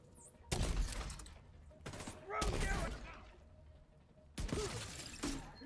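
Gunfire in The Division 2 comes as several separate bursts, close and punchy with ringing tails and mechanical clatter between them, while a player talks over the shooting.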